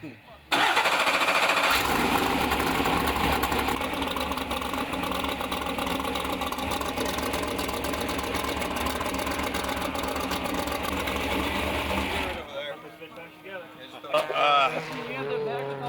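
A race truck engine for the San Felipe 250 off-road race is cranked with the ignition off. A loud, steady mechanical drone runs for about twelve seconds, then cuts off abruptly, leaving quieter background noise.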